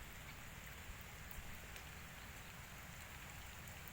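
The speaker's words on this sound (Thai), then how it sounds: "ตอนนี้ฝนก็กำลังตกปล่อย ๆอยู่" Steady rainy-season rain falling on a Thai orchard, a dense continuous hiss of drops on surfaces with no voices, constant and fairly close throughout.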